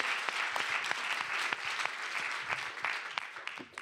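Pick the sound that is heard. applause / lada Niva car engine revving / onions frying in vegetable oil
applause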